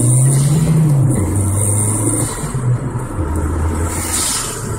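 A car fitted with a Spyder cold air intake accelerates from a stop sign, its engine note rising then dropping through gear changes, loud and close with strong intake roar.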